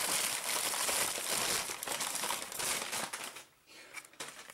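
Packaging paper crinkled and handled while unboxing a Losi Micro Truggy RC truck, a loud, close, continuous rustle that drops away briefly near the end.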